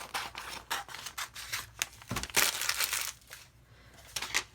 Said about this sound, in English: I'm going to cut out the bigger picture.